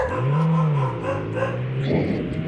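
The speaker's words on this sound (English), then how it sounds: "Like, shut up, dogs!" Dogs caged in a car trunk in a video game whine and yip in a drawn-out, wavering cry with a faint rumble of the car beneath, fairly close and with no talk over it.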